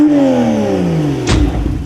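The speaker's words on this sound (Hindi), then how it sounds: "Porsche 911 engine 3 litre twin turbo," A Porsche 911 with a 3-litre twin-turbo engine revs. The loud, close engine tone slides steadily downward in pitch, then a brief rougher burst takes over near the end, with no voices.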